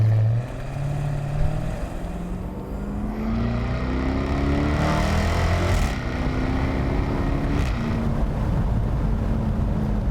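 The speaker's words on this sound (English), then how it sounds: "Listen to that exhaust. Man, does that ever sound good." Exhaust of a 2018 Jaguar F-Type SVR convertible while driving, a steady, full engine drone with rising and falling pitch sweeps as it accelerates and shifts, sustained and fairly loud throughout.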